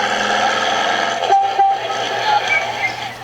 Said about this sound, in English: Oh, that is such a cute little honk.